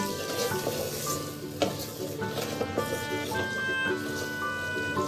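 Biryani masala stirred with a spatula in a clay handi pot: scraping and stirring over a faint sizzle, with a few sharp knocks of the spatula against the pot, while a voice talks over it and faint background music plays.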